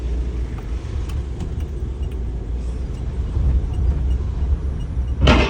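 A van driven by a learner moves along with a steady low engine and road rumble inside the cabin, rising slightly toward the end and closing with a short sharp knock.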